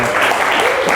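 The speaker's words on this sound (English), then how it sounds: "Round of applause." Brief burst of applause from a live seminar audience, dense clapping filling the room for about a second with a faint voice under it.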